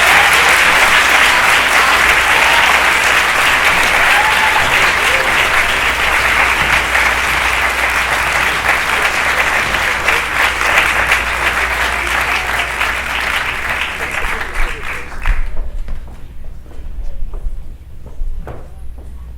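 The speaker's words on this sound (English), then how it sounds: "I would like a big round of applause for the Rainy Day team" Loud, sustained audience applause after a film panel discussion, a dense wash of clapping that holds steady for about fifteen seconds before cutting off, leaving only faint low room rumble.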